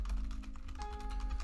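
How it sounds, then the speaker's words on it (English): Computer keyboard keys hammered rapidly and repeatedly to level up in the game One Piece Open Seas, a steady dense stream of close clicking taps with no talk. "just use your keyboard and spam"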